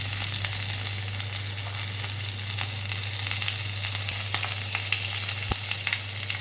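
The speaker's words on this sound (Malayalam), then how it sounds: "ഇഞ്ചി പച്ചമുളക് കുറച്ച് കൊടുക്കുക അധികമൊന്നും ഇടണ്ട എന്നാലും ഇടണം അതിനെ ഒന്ന് വഴച്ച് കൊടുക്കണം" Ginger and green chillies sauté in a pan for tamarind rice, giving a steady, dense close sizzle with a few sharp crackles and a low hum beneath, no voices.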